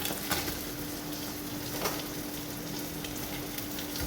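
Onion and pepper powder sautéing in a pan for a fish roe dish, a steady close sizzle with occasional stirring scrapes and small crackling bursts, no talking.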